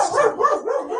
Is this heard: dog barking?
yes